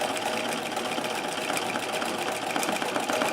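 A treadle-driven Singer 237 sewing machine stitches free-motion embroidery at a steady speed, a continuous close rattling clatter of needle and mechanism with no talking.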